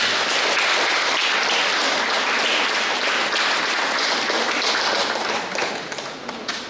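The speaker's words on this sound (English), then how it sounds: "Please give these officers a round of applause" Audience at a primary school graduation ceremony gives a loud, sustained round of applause for officers, dense clapping that holds strong before thinning slightly toward the end.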